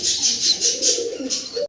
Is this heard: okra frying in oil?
no